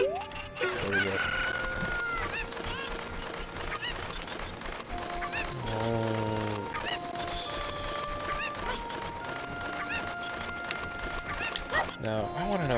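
Cucco chickens in the Zelda game Ocarina of Time give repeated clucks and squawks over busy game music, with short rising calls scattered through and someone talking over part of it.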